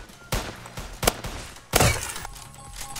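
Shotgun fire in the Roblox game Polyguns: several sharp blasts, one alone, one soon after, then a louder double blast, each with a short rumbling tail, close and loud, with no talking.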